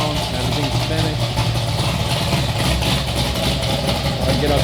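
A low-mileage, heavily upgraded Chevrolet Corvette C6 Z06, strapped down on a dyno, idles with a steady, deep, slightly loping engine rumble, while a person talks over it.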